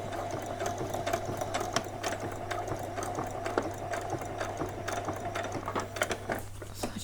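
A sewing machine runs steadily while stitching fabric doll bedding, giving a continuous close mechanical whir with a fast, even clatter that carries through to the end and never pauses.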